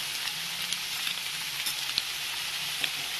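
Sliced onions sauté in hot oil with a lightly salted, steady sizzle, the crackle dense and even throughout with a few brief sharper pops, close and alone without any voices.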